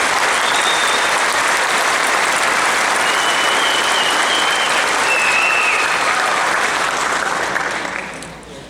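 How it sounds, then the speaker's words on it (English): A loud, dense round of audience applause for the academy's class of 2022 graduates holds steady for several seconds before fading out at the end. "Let's give them one more round of applause."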